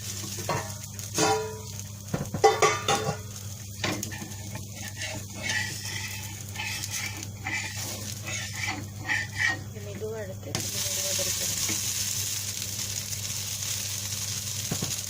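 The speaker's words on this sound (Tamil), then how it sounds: "இப்போ வந்து தோசையை திருப்பி போடலாம்" Paper dosa frying on a pan: a soft, continuous sizzle with scraping and clinking from a spatula, under intermittent talk, then a louder steady hiss near the end.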